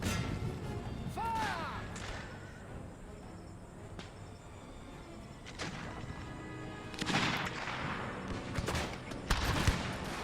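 Musket volley fire in the Total War video game set in the Thirty Years War: several bursts of gunfire crackle amid ongoing battle noise, with one heavier ragged volley near the end.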